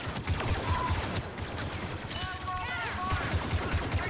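Rapid blaster gunfire in the Star Wars Battlefront 2 video game, a steady stream of sharp repeating shots under a dense battle mix with whooshing effects, continuous and fairly loud.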